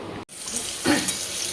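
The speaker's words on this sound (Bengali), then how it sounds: "আলুগুলো লাল লাল করে ভাজা হয়ে গেছে" Potatoes frying in hot oil, a steady close sizzle throughout with a brief dip near the start and a faint stir of the pan.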